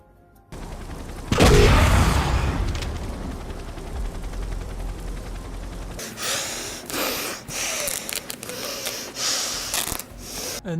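Rocket launcher fire and explosions in the video game Project IGI: a loud blast with a long booming tail, then a string of sharp bangs and impacts.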